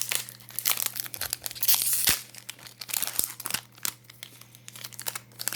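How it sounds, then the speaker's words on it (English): A blister pack of Yu-Gi-Oh trading cards is being opened, with close, irregular plastic crinkling and crackling bursts that come in quick clusters and short pauses. "I've never really opened these blisters with the cards behind them."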